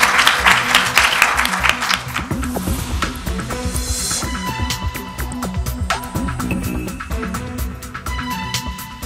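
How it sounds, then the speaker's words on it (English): A crowd at a candidate debate forum applauds steadily throughout, a dense wash of clapping with some murmuring and whistles mixed in, fairly loud and continuous. "Let's give them a round of applause."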